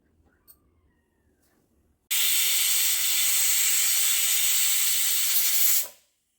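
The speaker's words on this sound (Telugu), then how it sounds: "కుక్కర్ మూత పెట్టుకొని మీడియం ఫ్లేమ్ మీద ఒక విజిల్ రానివ్వాలి" After a quiet moment, a loud pressure cooker whistle and steam hiss bursts out and holds steady for nearly four seconds before cutting off.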